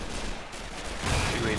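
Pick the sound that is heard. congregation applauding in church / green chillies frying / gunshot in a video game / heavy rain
gunshot in a video game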